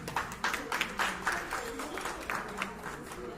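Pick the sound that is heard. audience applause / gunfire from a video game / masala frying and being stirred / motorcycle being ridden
audience applause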